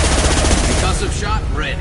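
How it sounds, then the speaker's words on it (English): Heavy gunfire in the video game Mass Effect rattles continuously as a dense, loud stream of rapid shots, with a voice breaking in partway through. "Watch for heavy fire."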